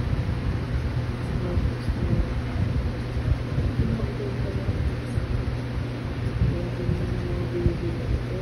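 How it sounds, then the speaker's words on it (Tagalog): Steady rain and storm noise outdoors, a dense continuous hiss and low rumble with occasional deeper swells that could be distant thunder, fairly faint and constant throughout. "Umuulan."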